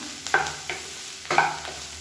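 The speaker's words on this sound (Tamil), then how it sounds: "அந்த சூட்லேயே பரட்டி விட்டிங்கன்னா போதும்" Coriander leaves are stirred in a hot pan for chutney: two bursts of spatula scraping over a soft, steady sizzle, close and moderately quiet, with no voices.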